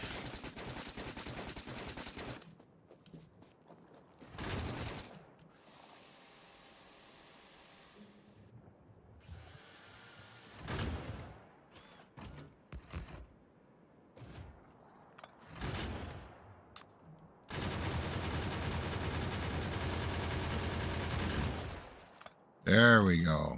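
Rapid bursts of automatic gunfire in the video game Factorio Space Age, several loud stretches of continuous shooting broken by short gaps and quieter moments, with talk in between.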